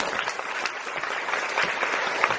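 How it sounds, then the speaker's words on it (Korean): An audience claps continuously at a musical's final-performance curtain call and stage greeting, a steady, moderately distant wash of hands. "박수 부탁드립니다"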